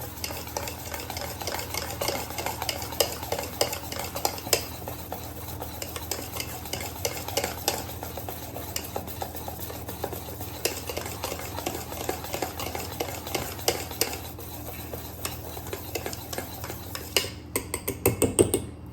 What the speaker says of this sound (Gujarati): ફટાફટ એને મિક્સ કરી લેવાનું છે.